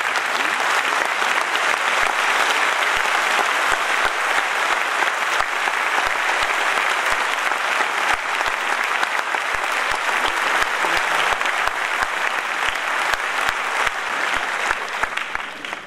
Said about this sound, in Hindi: अब मैं चाहूँगा जो तालियाँ बजा रहे थे इन्हें और इतना लंबा बजाएं